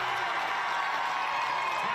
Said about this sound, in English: the Perth Lynx crowd really getting behind their team